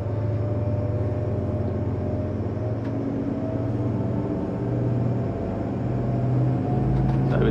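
A Sessa C42 motorboat with Volvo IPS engines building speed on open water, giving a steady, loud low engine drone that rises slightly toward the end, with no voices.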